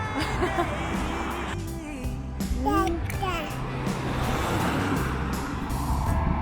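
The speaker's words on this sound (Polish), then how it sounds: "A na górze jeździ metro a na dole jeżdżą auta." Cars drive across the lower deck of a bridge in Porto that carries the metro above, a continuous close traffic rumble with passing vehicles under a child's and an adult's voices.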